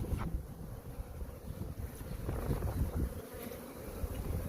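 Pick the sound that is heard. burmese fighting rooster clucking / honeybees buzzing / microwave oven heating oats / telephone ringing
honeybees buzzing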